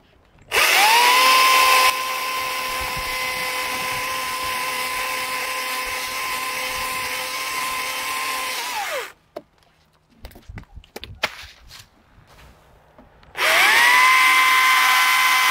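A loud power tool runs close and steady for about eight seconds while pruning a Niitaka pear tree branch in an orchard. Then come a few sharp knocks and rustles, and the tool starts up again near the end.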